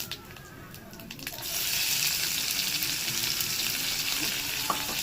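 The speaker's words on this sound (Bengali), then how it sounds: "এটা ভালো করে ভেজে নেব পেঁয়াজটাকে" Chopped onion hits hot oil already holding whole cumin seeds in a pan, bursting into a steady, close, loud sizzle after a quieter first second and continuing unbroken.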